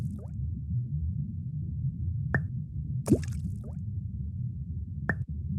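Rocks drop into a pond in a children's video game, each landing with a short cartoonish plop or bloop, several spaced apart over a soft, steady low background.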